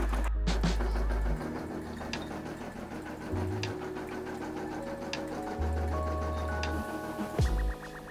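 An embroidery machine stitches out red thread for a DTG-style design, its rapid mechanical needle chatter running steadily and close up, with shifts in pitch and speed as the stitching changes, and no one speaking.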